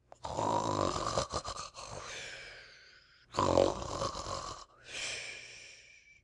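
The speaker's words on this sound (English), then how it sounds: "listened attentively to the snores. They were very loud indeed, but seemed quite natural." Loud snoring: a few long, rasping snores, each fading out before a short pause and the next heavy breath.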